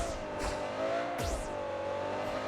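Vehicle engine in the PUBG Mobile video game, a revving motor with a steady hum, brief squeals and a quick swooping pass, moderately loud and without talk.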